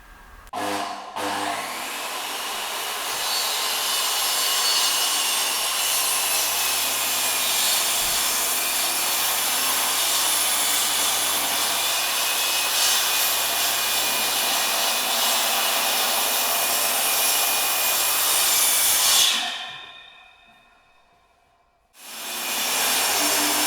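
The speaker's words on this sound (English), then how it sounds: "Each time you cut a shoulder, it's worth just checking the depth of the saw blade." A saw cuts tenon shoulders in oak framing timber with a loud, steady, continuous whine for about nineteen seconds. It then cuts out, falls briefly silent and starts up again.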